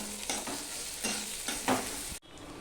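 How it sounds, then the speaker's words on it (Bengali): Tomato and ginger frying in a pan for a crab curry, a steady sizzle with scraping stir strokes repeating close by, cut off abruptly near the end. "এবার মিনিট খানিক আমি রান্না করে নেব আর টমেটোটাও নরম হয়ে যাবে আর আদারও কাঁচা গন্ধটা চলে যাবে"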